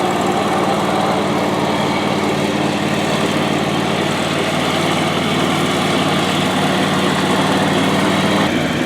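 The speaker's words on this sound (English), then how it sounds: "working on the John Deere mower for the last couple of days, and he got it running again" A John Deere lawn mower engine, just repaired and running again, idles steadily and loud at close range with a constant buzzing drone and no change in pitch.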